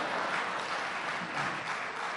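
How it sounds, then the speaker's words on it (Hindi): A seated audience at a comedy show claps in a dense, steady round of applause, fairly loud and sustained without any voices. "यहाँ ताली ये देख के बजाई जाती कि बगल वाला कितनी स्पीड से बजा रहा है"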